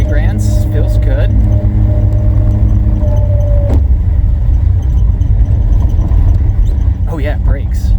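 Mazda rotary engine on a Nikki carburetor holds a steady, constant drone while driving at a consistent throttle around 3000 rpm, loud and continuous, with people talking over it.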